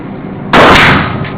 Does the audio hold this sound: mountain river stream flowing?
no